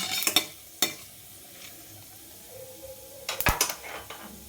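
A metal spoon clanks and scrapes against a pan as dried red chilies fry with mustard seeds, cumin and urad dal, giving a few sharp knocks at the start and again near the end over a faint sizzle.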